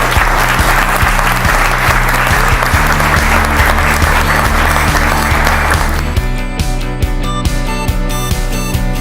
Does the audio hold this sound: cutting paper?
no